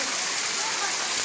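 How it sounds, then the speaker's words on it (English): A waterfall at Pachmarhi roars as a steady, dense broadband rush, loud and unbroken throughout. "There's another waterfall"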